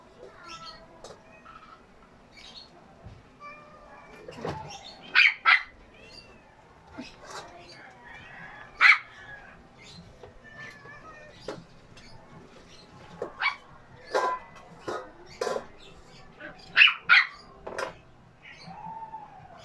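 A small dog barks and yips in scattered bursts, some sharp and close, interspersed with people talking.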